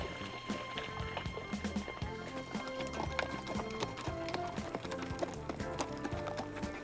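Horses' hooves clip-clop steadily on the Cabot 500 Trail in Newfoundland during a long, hard group trail ride, a continuous busy patter of many hoofbeats close by, with occasional faint snorts and distant voices.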